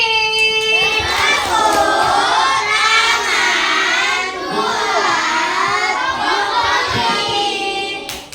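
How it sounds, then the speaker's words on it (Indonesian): A classroom of children shouts and cheers for the broccoli group, excited young voices rising and falling together in a loud, continuous burst with faint clapping mixed in, tapering off at the end. "Dan tepuk tangan buat kelompok brokoli."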